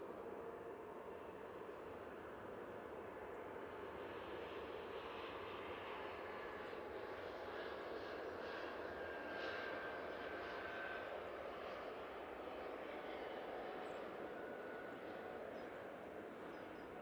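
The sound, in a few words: Air France Airbus A220 jet taking off from Manchester Airport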